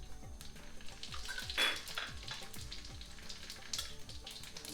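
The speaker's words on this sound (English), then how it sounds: "as soon as the oil is hot, first thing we're going to do is put this dry garam masala in there" Dry garam masala dropped into hot oil in a pan for a cottage cheese kofta curry, giving a steady close sizzle with scattered clinks of utensils against the pan and no talking.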